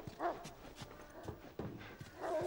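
Several dogs barking in the video game The Last of Us, with short sharp barks spaced unevenly at middle distance over a quiet background.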